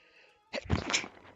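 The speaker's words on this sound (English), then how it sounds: "that was another sneeze" A single short sneeze bursts out sharply after a near-silent moment, fairly close and moderately loud, ending in a brief breathy tail.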